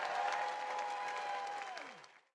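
A crowd applauds steadily for Bernie Sanders, a full, sustained wash of clapping with a faint steady tone beneath it, holding strong before tapering off and cutting out near the end.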